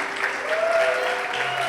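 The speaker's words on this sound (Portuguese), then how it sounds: "Dá um aplauso a Jesus." Congregation applause during a family service at Love Church after baptisms, a moderate, sustained patter of clapping with a faint tonal sound running through it.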